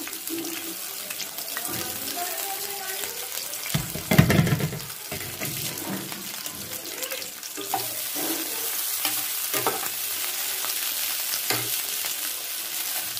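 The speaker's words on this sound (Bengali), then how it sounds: "আদা বাটাটা দিয়ে খানিকটা নাড়াচাড়া করে নিতে হবে" Ginger paste is stirred with dried and green chillies frying in a pan for a Bengali pui shak and fish-head chorchori, a steady sizzle with scraping stirs and one louder clatter near the middle.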